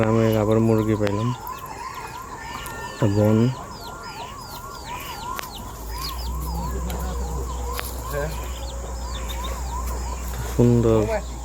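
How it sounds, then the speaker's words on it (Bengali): Chickens cluck and a rooster crows repeatedly in a village, the calls loud and near, with constant small birdsong and clucking between them and a brief voice speaking. "গ্রামে আবার মুরগি পাইলাম"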